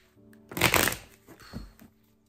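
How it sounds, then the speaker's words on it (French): A deck of Grimaud playing cards is shuffled close up in two quick riffling bursts: a louder crisp flutter, then a shorter softer one, ending in quiet. "Shuffle avec des cartes Grimaud, les gars, c'est juste incroyable."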